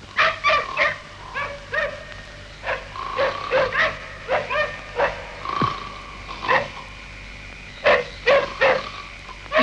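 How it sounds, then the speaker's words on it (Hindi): Dogs barking in a 1955 film scene, repeated short bursts with some higher yips mixed in, close and loud with brief pauses between volleys. "कुत्ते कब से भौंक रहे हैं?"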